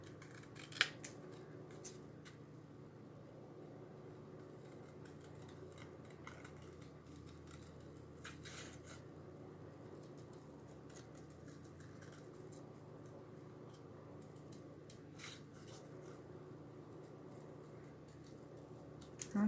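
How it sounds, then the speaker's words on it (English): Scissors cutting out the outline of a chalk transfer, heard as soft, faint snips and crisp clicks repeating at intervals over a low steady background hum. "This one I think I might try to cut"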